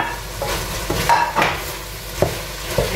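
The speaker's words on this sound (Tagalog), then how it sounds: "i-ano ko muna yung gulay, yung carrots. Gisahin ko muna" Carrots being sautéed in a pan, a low sizzle punctuated by several sharp scrapes and clinks of a utensil stirring against the pan.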